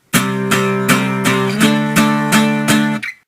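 Guitar strums a 5/7 power chord repeatedly in a steady rhythm, about eight crisp strokes close and loud, with a short muted scrape at the end.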